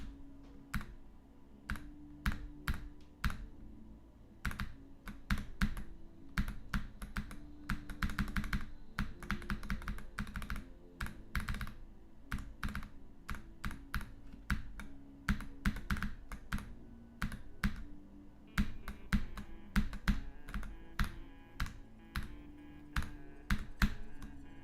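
Rapid keyboard clicks while playing Geometry Dash on a dedicated keyboard, dense bursts of sharp taps in uneven rhythm that run continuously and close up, with game music underneath.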